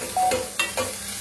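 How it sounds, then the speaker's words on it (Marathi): Onion and mixed vegetables fry for soup in a hot pan over a high flame, with loud sizzling and repeated stirring scrapes in short bursts, no talking. "चांगला गुलाबी रंग होईपर्यंत हाय फ्लेमवरती फ्राय करून घ्यायचं आहे"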